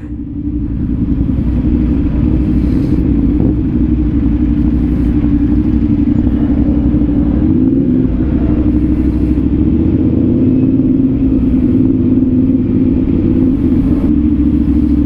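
Heavy road traffic in Cavite, Philippines, with cars and motorcycles: a loud, steady low engine rumble close by, with occasional revving and passing vehicles swelling through the drone, no talking.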